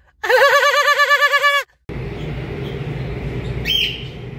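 A bird gives a quick, loud, wavering trill of repeated chirps up close, then stops, leaving a noisy room with a faint squeak afterward.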